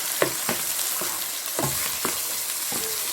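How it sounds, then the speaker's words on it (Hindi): Beef achar gosht with ginger-garlic paste is stirred in a sizzling pan, and about six scraping strokes cut through the steady frying hiss. "इसको अच्छी तरह हम मिक्स कर लेंगे"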